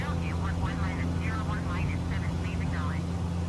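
A Piper PA-28-161 Warrior II single-engine light plane in a flight simulator drones steadily during its takeoff roll, a low constant engine hum while someone talks over it.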